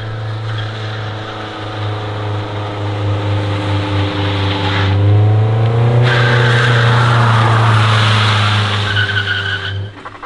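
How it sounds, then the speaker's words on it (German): A car's engine runs hard as it is driven to warm up before a stress test on helium-filled tyres, a continuous loud drone with rising and falling revs and tyre squeal, heard without talk. "fährt das Auto schon mal warm"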